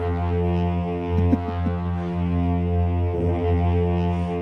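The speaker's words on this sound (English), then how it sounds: "Does sound like a bit of a foghorn, doesn't it?" Deep, droning foghorn-like effect with steady layered tones plays on a radio show, continuous and fairly loud for about four seconds, with small irregular blips scattered through it and no talking.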